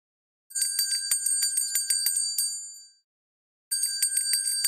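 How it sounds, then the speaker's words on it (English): A bright bell rings in two bursts of rapid repeated dings, each burst lasting a couple of seconds, separated by a short silence and heard alone, clear and close. "So the answer was the sound of a bell."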